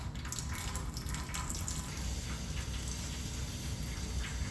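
Fluid falling into a drain pan on a shop floor, a continuous close splashing trickle with scattered drips, steady and fairly loud without pause.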